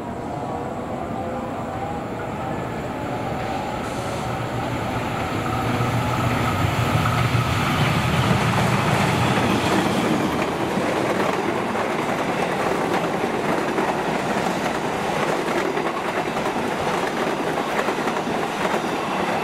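The Jayabaya passenger train on the Pasar Senen–Malang route passes close by: a loud, continuous rolling rumble with rail clatter that swells and holds as the carriages go past.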